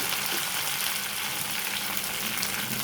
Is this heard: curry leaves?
yes